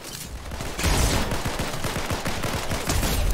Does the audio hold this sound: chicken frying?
no